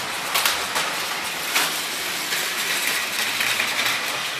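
A Plarail toy train, the Kyushu Yufuin no Mori DMU set, runs on plastic track under a Mr.Motorman control unit, giving a steady, fairly faint mechanical whir with a few light clicks and rattles throughout.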